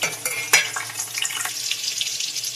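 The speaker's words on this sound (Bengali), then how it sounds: "পটলটা ভেজে নেব।" Pointed gourd pieces frying in hot mustard oil, a bright continuous sizzle with a few sharp spatula scrapes and pops near the start, close and loud.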